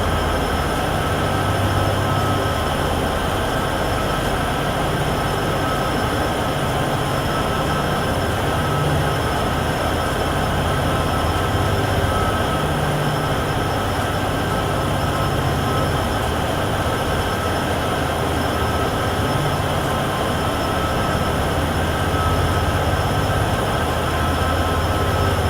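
A train running in Train Sim World 6 on the Cheyenne to Laramie line, a continuous loud rumble of wheels and engine with faint high squealing tones, steady throughout with no talking.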